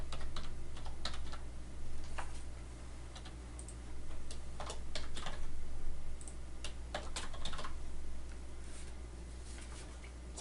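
Steady typing on a computer keyboard while entering contact data, soft irregular key clicks continuing throughout over a low steady hum, with no talking.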